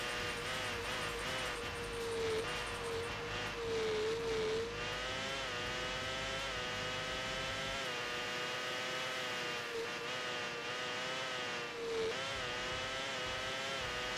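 Formula One car in F1 World Grand Prix on Dreamcast, a loud, continuous high-pitched engine whine that rises and falls with gear changes and acceleration, no talk.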